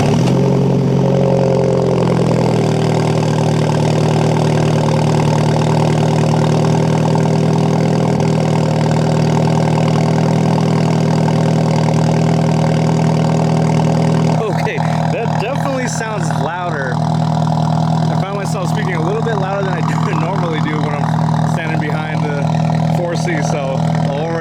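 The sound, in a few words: car engine idling with Capristo exhaust, possible cold start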